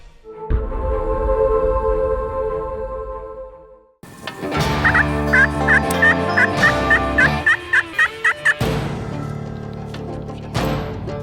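Wild turkeys gobble outdoors during a bowhunting trip, with a loud rolling gobble followed by several more rapid, rattling gobbles, close and clear.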